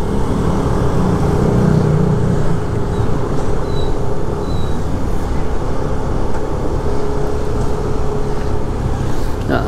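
Steady, loud traffic noise on a congested street in Seminyak, Bali, with a continuous broadband rumble of idling and creeping vehicles and no clear separate events.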